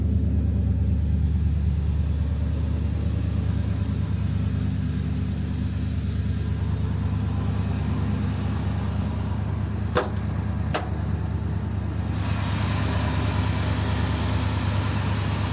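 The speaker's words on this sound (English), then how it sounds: "the truck runs really well" A 1977 Ford F-150 Ranger XLT 4x4 engine idles with a steady, low, even rumble close by, broken only by two brief clicks near the end.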